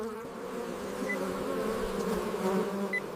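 Bees buzz around hives in a honey-producing operation, a dense continuous droning hum of many insects close by, steady throughout with small swells and no voices.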